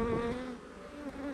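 Honeybees buzz at a backyard hive during an off-grid honey inspection, a close, continuous droning hum that rises and shifts in pitch as the insects fly near.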